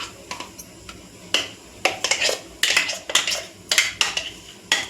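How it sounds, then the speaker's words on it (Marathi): Rava cake batter is scraped from a mixing bowl into an oiled pot, giving a run of sharp clinks and knocks of a utensil against metal, repeated irregularly and close up. "आपण आता या भांड्यामध्ये काढून घेऊ।"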